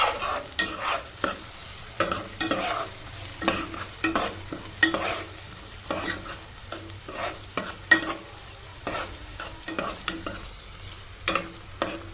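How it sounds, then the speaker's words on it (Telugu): Onions and green chillies frying in hot oil with cumin and mustard seeds, a steady close sizzle broken by repeated scraping stirs of a spoon against the pan, with no voices. "ఆనియన్స్ అండ్ మిర్చి అయితే మంచిగా ఫ్రై అయితే అవుతుంది సో మళ్ళీ మనం ఒకసారి అయితే కలబెట్టుకుందాం"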